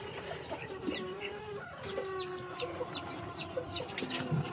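Rhode Island hens clucking around a coop with laying nests, a steady stream of soft, close clucks and short calls over a low rural background.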